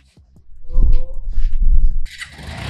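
A motorbike engine starts and revs up, its rumble fairly loud and close, with a brief burst of broadband noise near the end.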